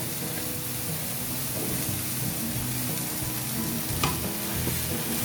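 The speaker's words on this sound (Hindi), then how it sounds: "हल्का हल्का सा हमने इनको सौते कर लिया।" Ingredients for chicken lasagne sautéing in a pan, a steady close sizzle and frying crackle with occasional stirring clinks, continuous throughout with no talking.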